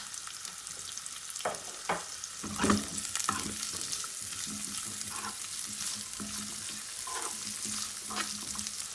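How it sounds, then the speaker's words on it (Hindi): Garlic and onions sizzle and fry in a hot pan for chicken manchurian, with steady crackling and a few stirring scrapes, close and continuous with no talking. "ये लहसुन जो है वो फ्राई हो चुका है। अब हम इसके अंदर 1 बाय 1 सब्जियां डालेंगे।"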